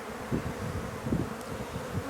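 Old honeybees in a queenless drone-laying hive, a close, continuous low buzzing with a few louder swells as bees pass near.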